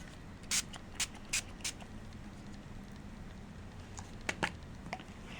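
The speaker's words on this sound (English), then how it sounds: "we're going to start by spraying" Several short hissing bursts of a spray bottle spraying water onto watercolor paper, a quick cluster of four then a few more later, over a low steady background hum.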